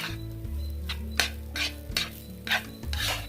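Veg schezwan fried rice tossed in a pan over high flame, rhythmic scraping and metallic clinks of the spatula repeating every half second or so over a low sizzle, close and without voices.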